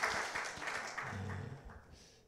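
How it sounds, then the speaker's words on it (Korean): A church congregation gives encouraging applause for the worship team at a Wednesday service, a dense patter of claps that swells briefly and then tapers off toward the end. "우리 다위드 찬양팀을 격려의 박수 할까요?"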